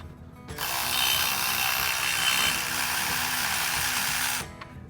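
A socket wrench with a deep socket works a nut off a carriage bolt on a John Deere 1890, giving a steady close rasping, ratcheting noise for about four seconds before stopping.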